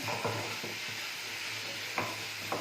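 Fried Chicken 65 is stirred into a gravy in a pan over a low sizzle, with several soft spoon scrapes and taps against the pan at irregular intervals.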